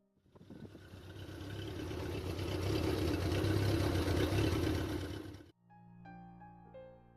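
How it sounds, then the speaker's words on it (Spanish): A Seat 133's small rear-mounted engine runs close by with a loud, rough, steady drone that swells and holds for about five seconds, then cuts off abruptly into a quieter tail. "donde toda la personalidad está precisamente detrás, con un pequeño motor que suena con actitud"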